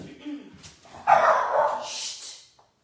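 A dog barks and whimpers nearby during a home exercise class, a few yips and barks rising over quieter background, with a voice speaking at the start.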